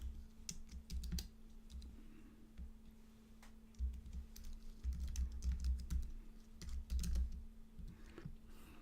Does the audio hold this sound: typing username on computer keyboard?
yes